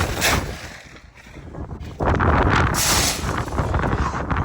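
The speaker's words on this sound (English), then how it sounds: "Oh, goodness, it's so windy." Gusts of wind buffet the microphone outdoors, easing briefly then surging loud again for the last half.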